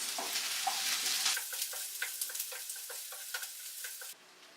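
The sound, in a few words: chopped onions frying in a hot pan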